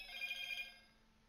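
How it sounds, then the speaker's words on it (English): A phone rings with a fast, warbling electronic trill, faint and indoors, lasting about half a second before fading into quiet room hum. "My phone is blowing up."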